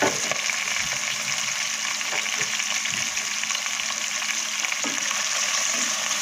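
Shredded chicken breast and bones sizzle steadily in a hot pan for a Filipino chicken sotanghon soup, a loud, continuous frying hiss broken by occasional stirring scrapes, with no talking.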